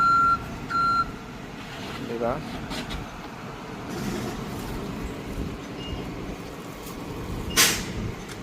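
Public bus kneeling for a wheelchair user to board alone, with a repeated warning beep and rumbling engine and traffic noise, while people talk nearby.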